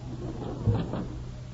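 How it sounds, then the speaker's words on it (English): A door opens in an old 1939 radio comedy broadcast, giving a brief wooden creak and thump near the middle over a steady hiss of old recording noise. "Oh, Musette, quick, open the door."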